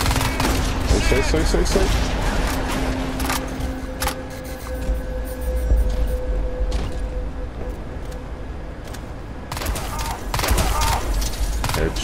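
Bursts of rapid automatic gunfire in the shooter game Crysis 2, loud volleys that pause and resume across the stretch, with a player talking briefly over the shooting.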